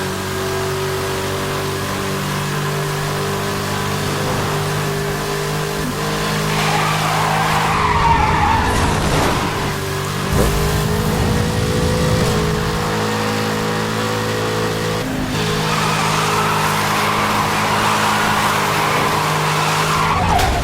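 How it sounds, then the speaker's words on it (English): A car drifting in Need for Speed: Hot Pursuit 2010 holds a loud, sustained engine drone while long tire skids squeal in and out, swelling and fading across the whole stretch, with no talking. "you can even do really long drifts here"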